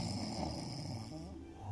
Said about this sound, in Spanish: Este que ronca como chancho en poza, como tractor viejo.